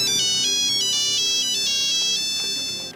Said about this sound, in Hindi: इस दौरान थानेदार के पास उसके एक आला अफसर का फोन आ गया